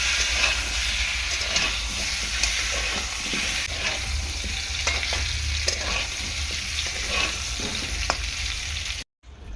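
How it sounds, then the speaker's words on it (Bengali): Potato pieces fry in oil seasoned with salt and turmeric, giving a steady, loud sizzling hiss throughout, with occasional stirring scrapes and a brief drop to silence near the end. "লবণ হলুদ দিয়ে আলুটাকে ভেজে নিচ্ছি"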